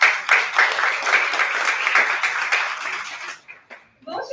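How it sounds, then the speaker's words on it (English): An audience at a community Founders Night event claps together in a lively burst of applause lasting about three seconds, then quickly dies away into near quiet with a brief voice at the end. "A big round of applause for our community."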